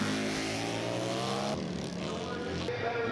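Vintage Harley-Davidson flat track motorcycles roar off the start line of a half-mile dirt race at Wauseon, a loud, dense engine blare that shifts midway as the pack surges away, with a commentator talking over it.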